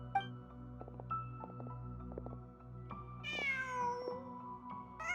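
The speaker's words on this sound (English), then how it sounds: "Just a cat." A cat meows twice in Genshin Impact, the longer second cry drawn out and falling, set against a soft, tonal game music bed with gentle plucked notes.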